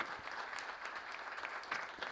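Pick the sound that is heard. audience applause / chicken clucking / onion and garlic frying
audience applause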